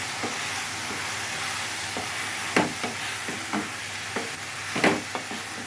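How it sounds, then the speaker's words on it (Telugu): Chopped spinach stirred in a hot pan with a steady sizzle. A spoon scrapes and taps against the pan in short, irregular strokes. "కట్ చేసుకున్న పాలకూర వేసేసుకున్నాం. ఒకసారి కలుపుకున్నాం ఫ్రెండ్స్."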